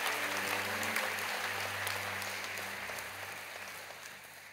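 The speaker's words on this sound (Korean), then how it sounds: "여러분께 박수로 환영하시지요" A church congregation at a Korean Sunday service applauds in welcome. The clapping is soft and distant, a thin, even patter over a low electrical hum that fades slightly toward the end.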